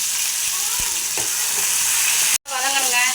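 Steady sizzling of chopped tomatoes frying in hot oil with onions, with a brief scrape of stirring and a short cut near the end.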